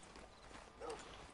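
Horse hooves walk in the video game Red Dead Redemption 2, a faint, even clip-clop lasting barely over a second over low background noise.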